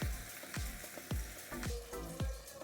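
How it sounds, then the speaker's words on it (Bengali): A fish head and tail fry in hot oil, crackling and spitting in a steady sizzle with regular sharp pops close up, no voices over it. "এই দুটো আমি ভেজে নেব।"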